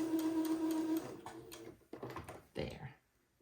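A sewing machine bastes the top and bottom of a fabric facing on a white button-on suit, starting with a steady mechanical whir of stitching that stops, followed by some brief handling clatter.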